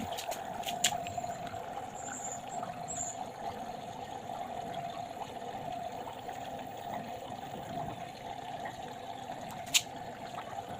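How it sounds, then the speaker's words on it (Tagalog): A steady stream of water runs continuously into a container, with a constant mid-range hiss and a faint background hum; one brief click near the end. "Nagkakarga siya ng tubig."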